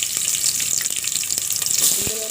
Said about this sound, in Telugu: ఇలా పోపు వేగిన తర్వాత మనం కట్ చేసుకున్న ఆనియన్స్ వేసుకోండి.